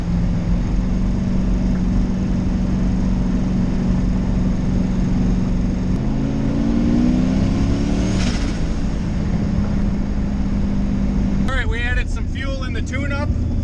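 A Chevy-engined Mustang pulls at roughly quarter throttle, its engine note rising and then dropping at a gear shift; the drone stays loud throughout, and a brief burst of other sound cuts in near the end.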